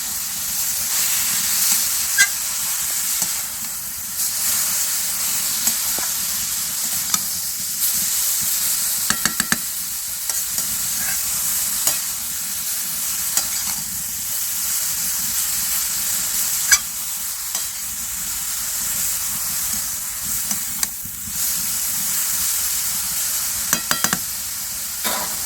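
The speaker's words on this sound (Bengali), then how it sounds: "ঘি নেই বলে আমি সাদা তেল দিয়ে ভাজলাম" Grated carrots frying in white oil for carrot halwa, a loud, constant hissing sizzle with frequent quick ladle taps and scrapes against the pan throughout.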